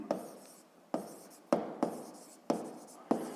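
Handwriting with a pen during a Ukrainian seventh-grade physics lesson: a handful of sharp scratchy strokes at an uneven pace, close and fairly loud, with no speech.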